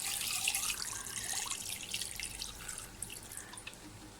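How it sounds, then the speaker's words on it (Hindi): Half a litre of water poured onto mutton in a pot for boiled namkeen gosht, a steady splashing trickle that stays fairly close and continuous with no one talking. "ये देखिए गोश्त में ½ लीटर पानी ऐड करते हैं।"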